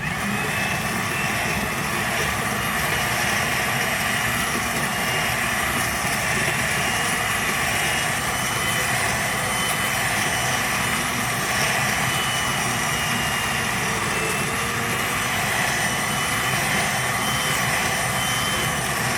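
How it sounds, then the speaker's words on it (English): An immersion blender purees carrot ginger soup with a loud, constant, steady whir that runs unbroken from start to finish, with no talk. "Place your immersion blender down in your soup and push it on low."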